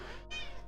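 A house cat gives a single short meow, close and clear, alone with no talking.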